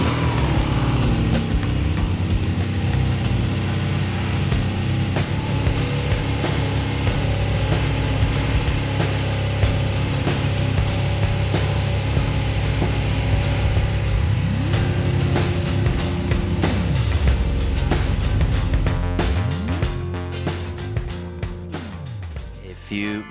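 A BMW R nineT motorcycle engine runs steadily at idle while warming up to operating temperature, a loud continuous throb held close for over twenty seconds, with faint clicks and handling noises toward the end.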